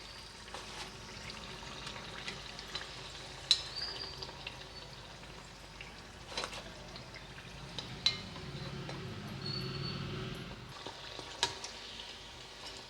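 Vegetable samosas deep-frying in hot oil, a soft steady sizzle with occasional louder bubbling pops and light clinks of a utensil, fairly quiet and without talk.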